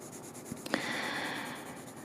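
Faint, soft scratching of a Faber-Castell 2B graphite pencil drawn across paper, a brief close stroke with a couple of light taps, otherwise quiet.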